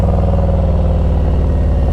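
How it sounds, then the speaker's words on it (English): Close, loud Harley-Davidson Street Glide Special FLHXS motorcycle engine braking off throttle, a steady burbling rumble with rhythmic low pulsing. "Just the engine braking. That's me off the throttle."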